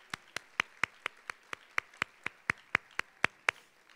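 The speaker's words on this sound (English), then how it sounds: "So let's give them a round of applause again." Slow, evenly spaced hand claps at a charity lunch, roughly fourteen sharp, distinct beats over four seconds, moderately close and fairly quiet, with no talking.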